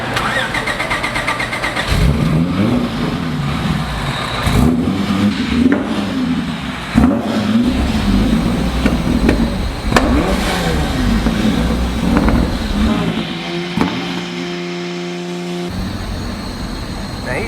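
A 1974 Mini Cooper S revs hard on a rear-wheel dyno, with its engine rising and falling in repeated loud pulls, then settling into a steady droning hum near the end, while people talk over the noise.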